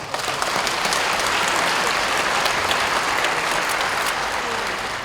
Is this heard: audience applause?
yes